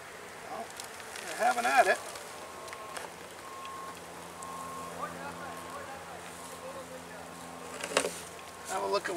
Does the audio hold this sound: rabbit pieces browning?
no